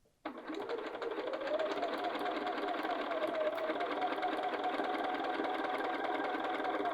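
A sewing machine runs steadily and close up while stitching a curved seam ahead of a gathered section, starting abruptly after a brief quiet and keeping an even, continuous whirring drone throughout.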